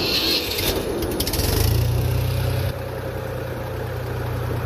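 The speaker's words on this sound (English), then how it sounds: "I'll fire it up for you." 1969 Ford 3000 tractor with a three-cylinder engine fires up after a brief cranking and settles into a steady, smooth, close low idle rumble.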